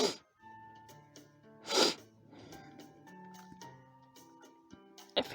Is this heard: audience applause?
no